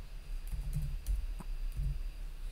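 Keys clack on a computer keyboard during setup of Ubuntu in VirtualBox, a close run of irregular taps and clicks with short pauses between bursts.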